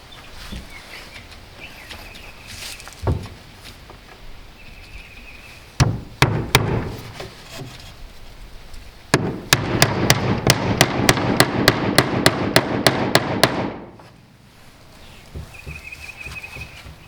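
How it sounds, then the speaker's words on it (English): Hammer driving 2-inch galvanized nails into cedar fence picket board-and-batten siding: scattered knocks, then a fast steady run of loud ringing blows, with birdsong faintly in the background. "they're just nailed together with a 2-inch galvanized nail"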